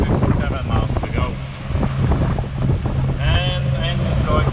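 A sailboat's engine pushed to full throttle at about 2,200 RPM, making roughly 7.5 knots at sea midway between Cyprus and Turkey: a steady, close droning hum under constant wind buffeting, with faint voices in the background.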